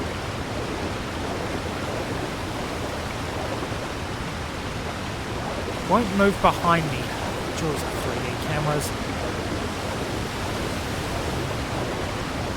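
A waterfall in Super Mario Odyssey gives a steady, even roar of rushing water throughout, while a voice talks briefly over it in the middle along with a few short game sounds.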